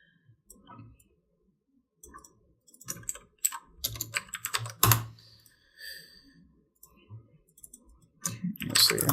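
Computer keyboard typing during a programming session: irregular bursts of crisp key clicks, sparse at first and then in rapid flurries, close and fairly loud, ending in a louder cluster of strikes.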